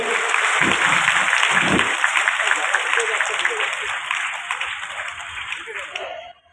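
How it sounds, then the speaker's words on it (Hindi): A crowd claps in steady applause to welcome a guest at a stage event, loud and sustained, then slowly thins out and stops. A voice briefly speaks near the start. "आप लोग ताली बजाकर उनका स्वागत कीजिए।"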